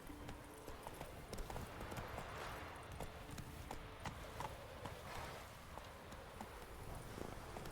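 Roach, Geralt's horse in The Witcher 3, trots along with steady clip-clopping hooves over a busy bed of game ambience and music, the hoofbeats moderately close and continuous throughout.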